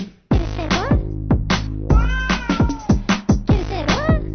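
A cat meows repeatedly, close and loud, in a quick run of short, bending cries with brief gaps between them, with no talking.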